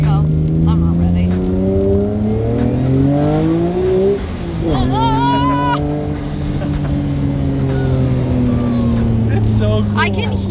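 A Nissan R33 GTR accelerates down a street, its engine note climbing through several gear changes, loud and close at first, then pulling away, with people talking and exclaiming over it the whole time.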